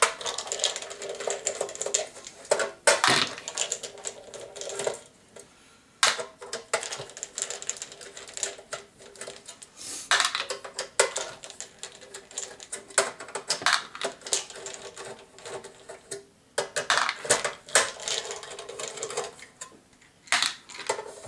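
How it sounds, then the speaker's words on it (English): Screws are removed one by one from a device's side panel, heard as close, irregular metallic clicks, taps and small rattles of the screwdriver and loose screws, with brief pauses between bursts and no talking. "On the side here, we have a bunch of screws we're going to remove."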